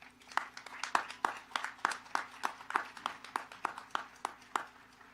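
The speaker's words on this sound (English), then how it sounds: "Please give them a round of applause." Scattered, sparse clapping from a modest crowd at a 2020 commencement greets graduating honors candidates, with separate hand claps rising and falling in an irregular rhythm.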